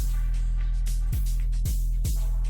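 A Nexus "Illusion" synth preset for amapiano plays a sustained, bright chord with deep bass, punctuated by a few rhythmic pitch-dropping thumps.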